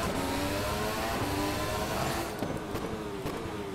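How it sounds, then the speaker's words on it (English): Race cars including an Indy Lights car roaring past in the rFactor 2 racing game, a loud sustained engine howl with a dense rushing pass and rising-falling pitch, ending in rougher bursts. "there's the Indy Lights car going through"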